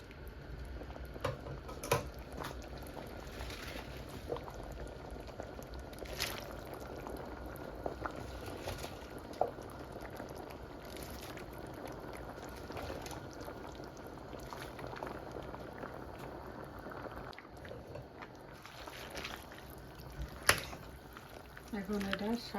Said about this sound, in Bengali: এখন এটা শাকও সিদ্ধ হবে, শাকের ডাঁটাগুলো, আর ডালটাও সিদ্ধ হয়ে যাবে ফুল।